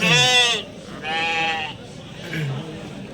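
Sheep and lambs at a weekly livestock market in Kadiri, three loud, close bleats in quick succession, each wavering cry about half a second long.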